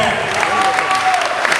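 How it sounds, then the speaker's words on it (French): Audience applauding at a ceremony, a dense, steady wash of clapping that fills the short stretch at an even level without breaks. "Est-ce qu'on peut applaudir"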